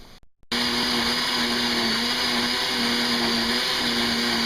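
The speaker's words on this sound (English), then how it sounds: "So you blend the chili, and then you strain it so that there's no seeds or hard shell of the red chili left over for the menudo" A blender whirs steadily as it purées red chili for menudo, a loud continuous motor drone starting abruptly after a brief quiet moment and holding an even pitch throughout.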